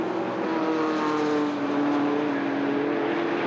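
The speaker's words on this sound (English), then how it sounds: "It's the Sagaris that is in the lead of the race of Tim Hood." TVR Sagaris race cars racing at Silverstone during a Tuscan Challenge round, a loud continuous engine drone with a steady high-pitched whine holding and rising slightly, close and alone without talk.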